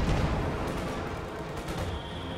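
STG assault rifle fire in the strategy game Company of Heroes: a loud, dense burst of gunshots and battle crackle that thins gradually over a couple of seconds.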